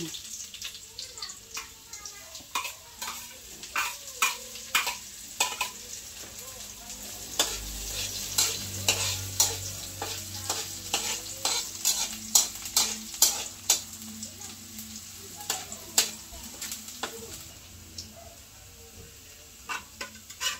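Chicken liver and gizzard cooking in coconut milk, ginataang style, sizzle steadily in a pan while a spoon stirs and scrapes in repeated clicks, with faint voices in the background.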